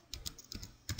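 Keys clack on a computer keyboard while a PHP command is typed, a handful of quick close taps in an uneven rhythm, quiet and alone.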